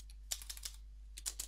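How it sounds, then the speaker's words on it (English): Quiet typing on a computer keyboard, a few soft close clicks in two short clusters over a steady low hum. "And now I would need to type in notepad."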